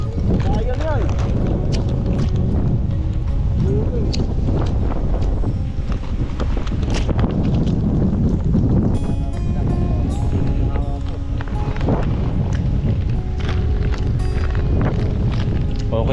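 Strong wind buffets the microphone outdoors on a rugged mountain road route from Bangued, Abra to Nueva Era, Ilocos Sur, a constant loud rumbling roar running throughout with voices talking over it.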